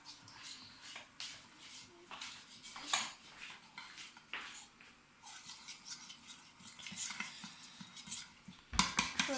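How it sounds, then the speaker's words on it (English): Custard is mixed in a pan over low heat with a spoon or whisk, producing quiet, irregular scraping and clinking strokes against the metal, softer in the middle and busier toward the end, with no talk. "So here I'm mixing."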